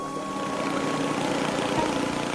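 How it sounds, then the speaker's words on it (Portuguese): A cartoon engine running in a Woody Woodpecker forest episode, a steady droning hum with a faint whirring, propeller-like texture, moderately quiet and continuous with no talk over it. "O motor está funcionando, mas eu ainda não apertei o botão."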